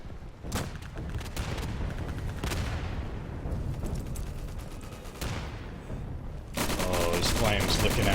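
Artillery and small-arms fire rage in the video game Day of Infamy: sharp shots and rattling bursts keep crackling, with heavier booms rolling through the din and an even louder barrage erupting near the end.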